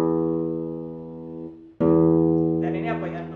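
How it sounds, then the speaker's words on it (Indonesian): Classical guitar plucked with the thumb sul ponticello, near the bridge: one sustained note rings and fades, then a fresh thumb pluck rings out with a brighter, twangier edge, close and clear with no talk. "ketika kamu memainkan arah sini semakin ke kanan dari gitar, atau yang kita sebut dengan sul ponticello"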